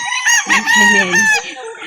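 A Nelson Henny rooster crows loudly and close by at a chicken market, one harsh drawn-out call that trails off, heard on its own.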